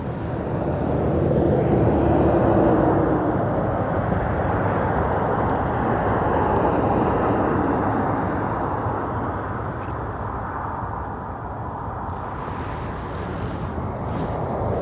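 A steady, broad engine roar of an airplane approaching Aberdeen Airport from the sea drones on for the whole stretch, loud and unbroken, easing off slightly toward the end.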